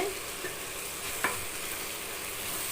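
Ground masala paste being sautéed for a gravy, giving a steady close sizzle and hiss with one brief sharper scrape of the spoon partway through.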